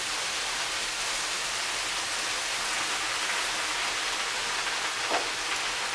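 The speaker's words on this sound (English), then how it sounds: "Now we want to mix that around to make sure that all the spinach is evenly distributed throughout the pan." Spinach stirred in a hot pan sizzles with a steady, even hiss, a close crackling wash that continues without a break or talk.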